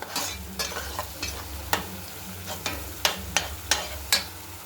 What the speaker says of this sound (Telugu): బాగా కలపెట్టుకోండి గ్రేవీ